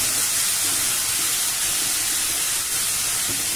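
Tomato gravy curry with bandakaya sizzling in a pan over a medium flame, a steady, loud, even hiss of frying that runs throughout without any talk.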